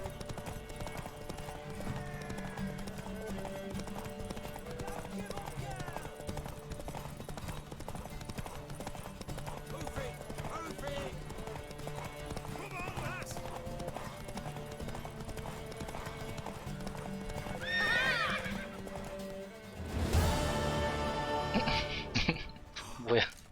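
Horse hooves clip-clop steadily in The Witcher 3: Wild Hunt, with a mare's whinny and a louder burst of action near the end, all under game music and voices.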